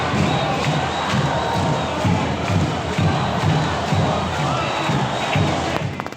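A large crowd of protesters fills a city square in Belo Horizonte, Minas Gerais, a dense continuous roar of voices with rhythmic chanting pulses and occasional thumps, loud and sustained throughout.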